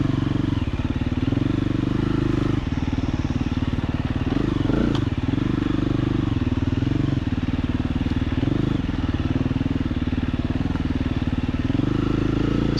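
Dual sport motorcycles ride through tight woods at a Wisconsin charity ride, giving a loud, steady, close engine drone that rises and falls with throttle across the whole stretch, over faint clatter from the trail.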